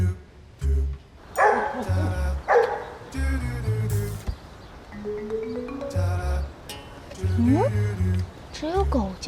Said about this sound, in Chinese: 只有狗叫声。